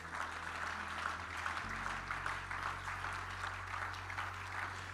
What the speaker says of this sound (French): Acclame très fort là où tu es.